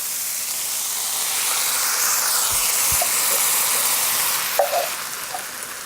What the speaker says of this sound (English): the pineapple hitting the heat, and this is like a medium-high heat, with the onions and peppers